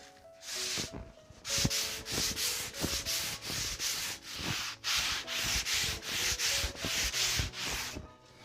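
Rhythmic sanding strokes scrape back and forth over wall corners, loud and close, in repeated bursts with brief pauses between passes.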